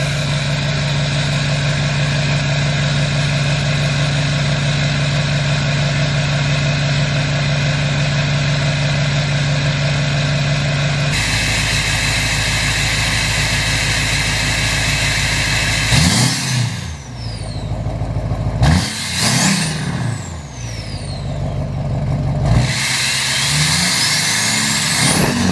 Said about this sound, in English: Here's like a little cold start.